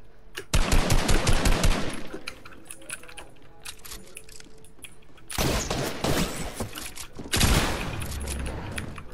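Fortnite gunfire, a rapid burst of automatic shots up close, then quieter game noise and later two more loud bursts of shooting, with brief voices in between.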